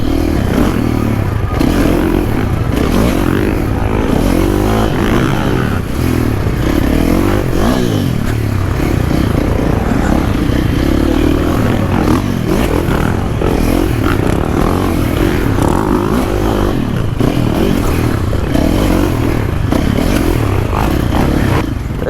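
A motocross motorcycle laps the Paris Supercross track, its engine loud and close as it revs and roars continuously for over twenty seconds, with rises and dips in throttle and some clattering from the bike.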